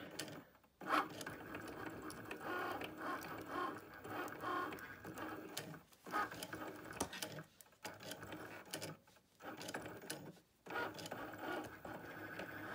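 A Cricut cutting machine draws with a Foil Quill tip, making quiet mechanical whirring and ratcheting carriage movements in bursts separated by brief pauses.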